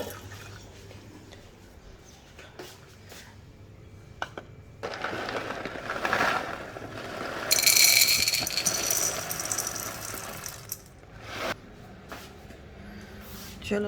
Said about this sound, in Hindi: और इसको फूड डालते हैं जी।